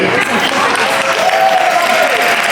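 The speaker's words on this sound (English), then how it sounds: "another round of applause for IBall, everybody" Audience applause fills a Tetris tournament hall at a gaming expo, dense steady clapping close by with voices talking over it and an occasional cheer.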